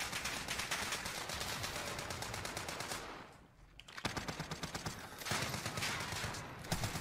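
Rapid automatic gunfire from a video game rattles in dense, loud bursts, breaks off briefly for about a second, then resumes with quick repeated shots through to the end.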